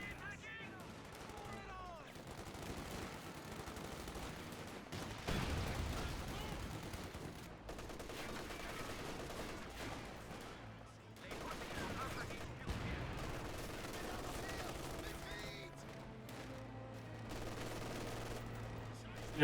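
MG42 machine gun bursts in the Company of Heroes 2 strategy game, quiet rattling volleys mixed with other gunfire and explosions in a busy battle, a voice talking over parts of it.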